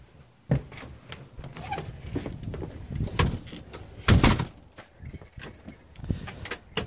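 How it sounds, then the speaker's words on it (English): A door is closed and locked: a firm thud and latch clicks stand out among quieter handling noises and rustle, close by. "I'll lock the door"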